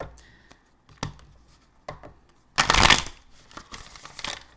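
Tarot cards being shuffled by hand in short bursts of riffling and tapping, with a louder, denser flurry in the middle and quieter handling around it, close and alone.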